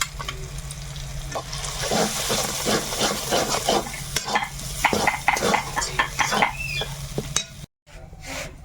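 Green pea paste sizzles and fries in a hot wok (kadai), with steady stirring scrapes and spatula clinks against the metal throughout, up close and fairly loud, briefly cutting out near the end.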